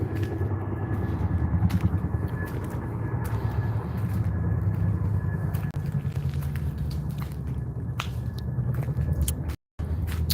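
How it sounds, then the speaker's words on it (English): A helicopter passes overhead, heard as a continuous low, rumbling drone at a fairly steady level, with scattered small clicks and one brief dropout near the end. "Listen, all you helicopters."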